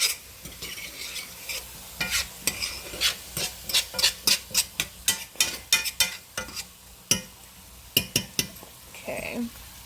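A utensil scrapes the bottom of a pan deglazed with reserved clam juice for clam chowder, in a quick rhythmic series of close, rasping strokes over a low sizzle.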